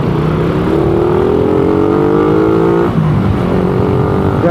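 Yamaha Raider 150 motorcycle engine on its stock exhaust pipe, loud and close, revving up in a rising pitch, dropping briefly, then climbing again, with no talk.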